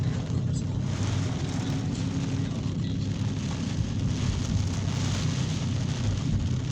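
Steady rain falls during a severe thunderstorm, a continuous moderate wash with a low rumble underneath and no distinct thunderclap.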